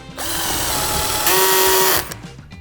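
A Dnipro-M CD-218 cordless drill bores into raw, wet wood, its motor whining steadily and loud, rising in pitch partway through as speed changes, then cutting off near the end.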